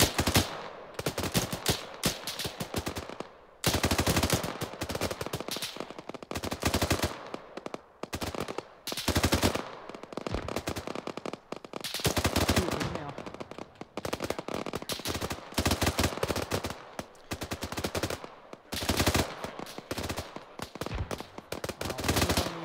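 Sustained machine gun fire in the military shooter Arma 3, loud dense bursts of automatic shots repeating throughout with short pauses between volleys.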